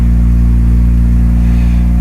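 A Mazda RX-7 rotary engine at a Japanese car auction, idling roughly up close: a loud, steady, throbbing drone with a deep pulsing low end and no pauses.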